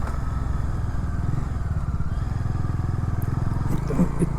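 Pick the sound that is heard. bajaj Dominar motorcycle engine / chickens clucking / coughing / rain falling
bajaj Dominar motorcycle engine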